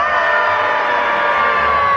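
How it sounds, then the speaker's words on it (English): A theme-park audience at a Magic Kingdom comedy show screams and whoops loudly with hands up to greet a monster, a dense, sustained roar of many voices lasting the whole moment. "Just throw your hands up in the air and scream as loud as you can."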